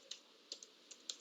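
Sparse key clicks from a computer keyboard while typing a software name into a browser search bar on a Windows PC, a handful of light, irregular taps close by and alone.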